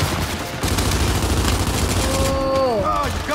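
Machine gun fire in the co-op shooter game Gears 5, a loud sustained burst of rapid shots with booming impacts, followed by descending electronic whine tones near the end.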